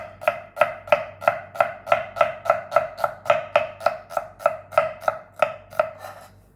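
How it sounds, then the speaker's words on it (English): A knife slices thin pieces from wedges on a cutting board in a home kitchen, about fifteen crisp, evenly spaced chops in a steady rhythm, close and clear with no talk. "I'm just going to run the knife and just cut just thin little slices"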